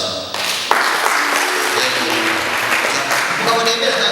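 An audience applauds at a church gathering with dense, sustained clapping from a large crowd. The clapping is loud and continuous, with voices mixed in.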